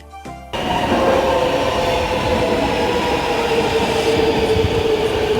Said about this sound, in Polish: właśnie metro przyjechało, nie muszę wcale czekać